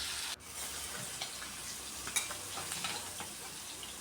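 Tilapia pieces fry slowly in oil over low heat, a soft steady crackle with occasional light scrapes as they are turned, quiet and close.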